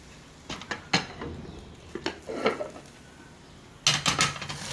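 Hash browns are flipped in a pan: scattered scrapes and metallic clatters of a spatula against cookware, loud and close, with brief quiet gaps between bursts.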